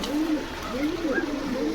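Pigeons at a Bogura pigeon market, including Giribaz birds, cooing in soft repeated rising-and-falling phrases close by, with faint crowd murmur in the background.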